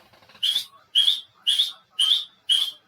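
A man imitates the call of a baathi bird with his voice, giving five evenly spaced, bright whistled notes about half a second apart, close and clear with no other sound.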